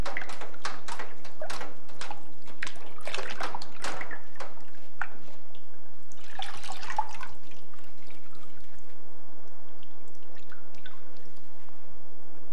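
A C4 gas mask is worked by hand in a Dettol and water solution, giving wet sloshing, squishing and dripping. Splashes come in busy bursts and then fade to quieter trickles, close up and with no talk.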